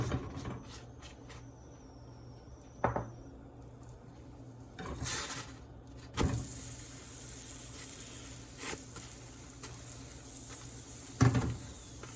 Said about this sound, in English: Now apply some ghee and cook evenly from all the sides.